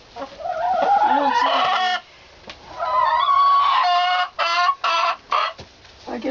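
Hens in a chicken house cluck and squawk close by in loud, drawn-out calls and short rapid bursts separated by brief pauses.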